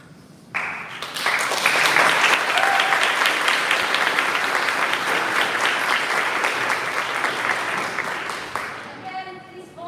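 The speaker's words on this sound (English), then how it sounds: "please hold your applause until the end of the round" Audience at a live event bursting into applause, a sudden loud wave of clapping that holds steady for several seconds before fading, with faint speech at the end.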